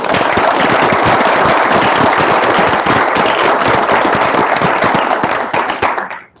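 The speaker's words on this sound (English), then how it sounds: "let's give these ladies and gentlemen a round of applause." A school board meeting audience applauds, a dense, loud burst of clapping hands that holds steady for several seconds before tapering off at the end.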